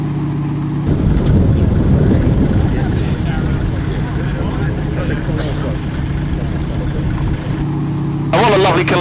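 A T6 Harvard propeller aircraft taxis at an airshow, its engine droning steadily at low idle close by, with a brief high whine near the end.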